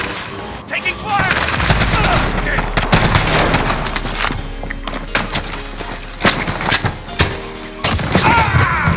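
Gunfire in the video game Warzone comes in loud, dense bursts of shots that rattle through most of the clip, with short gaps between volleys and game voice lines mixed in.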